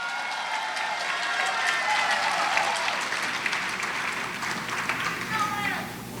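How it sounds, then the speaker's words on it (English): An audience at a senior women's pageant applauds a contestant, steady clapping that builds, holds for several seconds and thins toward the end, with some voices mixed in. "Let's give her another welcome and a round of applause."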